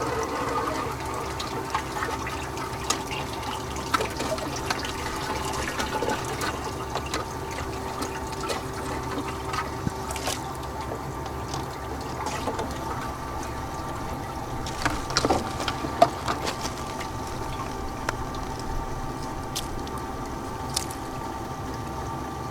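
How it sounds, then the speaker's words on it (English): Water washes paydirt from the Snake River through a gold recovery sluice, a steady wet rushing and trickling that runs continuously for the whole stretch, with a few small splashes and knocks standing out now and then. "wash in the rest of the dirt."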